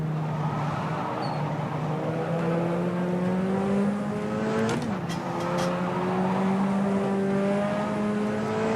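Puma P052 prototype race car in the racing simulator rFactor 2 at Ibarra, a loud close engine roar holding a steady droning pitch, with a quick downshift blip midway before climbing again under acceleration.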